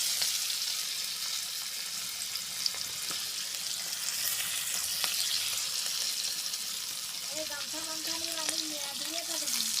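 Chopped onions go into hot oil for a home-style chicken curry, and a constant broad sizzle runs throughout while a faint voice-like tone appears near the end.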